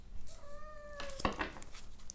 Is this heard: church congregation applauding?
no